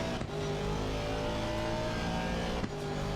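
Porsche race car engine at Hungaroring in a racing game, a loud sustained high-pitched whine holding steady with brief dips at gear changes, close and continuous.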